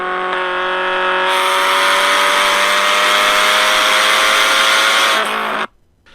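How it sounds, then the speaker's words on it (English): Batmobile engine sound effect during a truck chase, a loud, steady high-revving whine held for several seconds before cutting off abruptly. "Soon, the Batmobile was about to catch up to Foster's truck"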